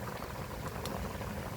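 Shapla (water lily) curry simmers in a pan, giving a soft, continuous bubbling and faint crackle at low volume.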